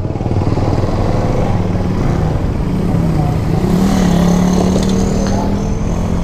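Bajaj Pulsar NS200 motorcycle on a night test drive after sitting unused for three months; the engine drones steadily and close by, rising and falling slightly in pitch throughout.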